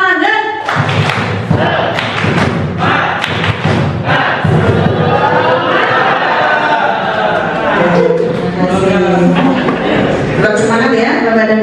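An audience at a workshop performs the rhythmic tepuk semangat clapping chant, loud group claps in patterned bursts with shouted voices joining in, sustained throughout.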